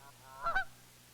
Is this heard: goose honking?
yes